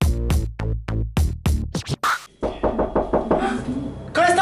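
Loud, rapid knocks on a door land in a quick series of sharp raps, followed by a dense burst of close chatter and voices.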